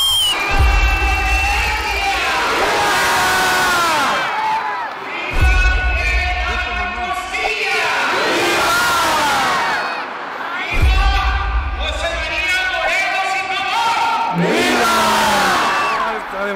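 A large Mexican crowd shouts the Grito de Independencia in three loud, surging bursts, each rising from a deep rumble into massed voices that swell and fade, with a brief lull between waves.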